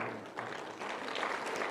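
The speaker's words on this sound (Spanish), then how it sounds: "Un aplauso más al Señor" Applause from a church congregation at an evangelistic gathering, a continuous wash of clapping from many hands, moderately quiet and steady.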